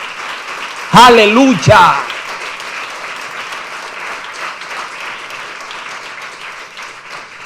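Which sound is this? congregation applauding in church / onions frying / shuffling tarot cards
congregation applauding in church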